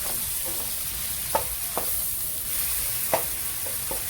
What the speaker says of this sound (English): So I'm just going to basically saute them for a minute